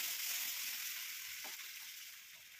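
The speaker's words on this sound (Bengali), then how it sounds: "সেদ্ধ করে রাখা আলু অ্যাড করে একটু কষিয়ে নিয়ে" Boiled potatoes sauté in a pan for green pea ghugni, giving a faint, steady sizzling hiss that fades slightly toward the end, with no voices.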